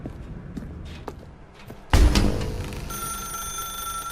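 A telephone rings in The Stanley Parable video game, a bright repeating ring that starts suddenly after quiet room sounds and a thump, holding steady tones to the end.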